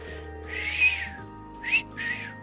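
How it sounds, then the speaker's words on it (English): A whistle sounds in the video game Trails of Cold Steel, a longer airy whistled swell followed by two shorter bursts, over a soft sustained musical background with no talking. "I don't know what type of whistle it is."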